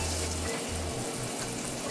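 Ginger, garlic and curry powder sizzling in extra virgin olive oil in a pot, a steady close-up frying hiss that fills the whole moment without pause.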